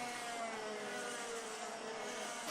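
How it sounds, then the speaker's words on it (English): Racing karts at a championship round, one of them running with its exhaust hanging off, give a steady, dense engine drone that stays at an even loudness with no breaks. "it sounds like one driver's exhaust was hanging off there. A very odd sound coming out from one of the carts"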